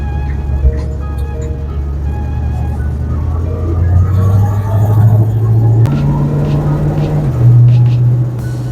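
A 1973 Ford Mustang with vague steering and locking brakes drives on the road, its engine droning steadily and rising in pitch through the gears, with a shift partway through, loud and close.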